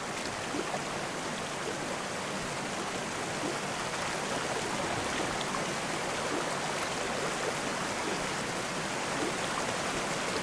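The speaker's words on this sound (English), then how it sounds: "Oh, going down the waterfall sideways." Rushing waterfall water in the Whitewater VR kayaking game, a steady broad hiss of white water that holds evenly throughout without voices.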